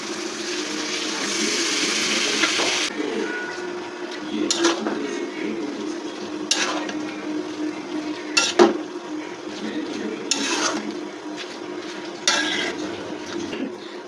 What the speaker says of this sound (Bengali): এখন আমি লাউটা দিয়ে দেবো